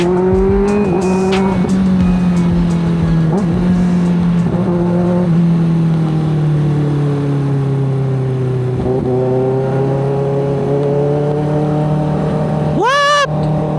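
Kawasaki ZX6R sport motorcycle revving hard on a night ride, with loud, close engine tones that climb and fall through repeated throttle pulls and ease off before a sharp final burst.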